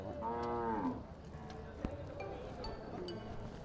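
Water buffalo at a livestock stockyard give a loud, drawn-out moo near the start, followed by a busy background of clinks and yard noise.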